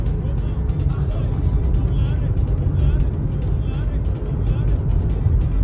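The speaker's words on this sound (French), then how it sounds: "Vous avez des taxis" Busy street traffic in Yamoussoukro, Côte d'Ivoire, with taxis and cars as a steady loud rumble of engines and passing vehicles, while someone talks over it.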